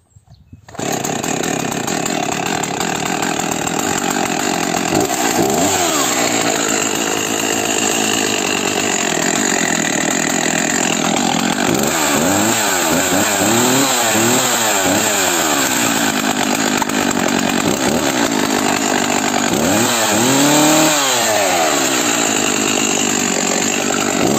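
A small Husqvarna chainsaw pull-started and then running steadily, its loud, continuous engine roar filling the scene, with several revving surges where the pitch climbs and falls.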